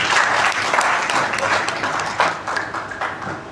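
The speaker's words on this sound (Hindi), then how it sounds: "एक बार शानदार ताली होनी चाहिए इस प्लान के लिए" An audience at a company plan presentation breaks into steady, dense applause that carries on throughout, loud and close, with a faint voice mixed in.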